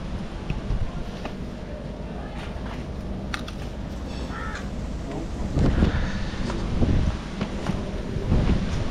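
Strong wind at Diana Beach buffets the microphone in a steady roar for about nine seconds, with heavier low gusts surging toward the end and a few faint sharp calls in the background.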